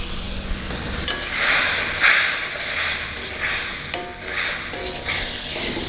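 Tomatoes going into a sizzling mushroom sauce, bringing loud frying and hissing with stirring scrapes and bursts of spatter over several seconds.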